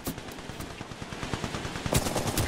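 Rapid turret machine-gun fire in the video game Titanfall 2, a dense continuous stream of loud, fast bursts with sharper cracks near the end.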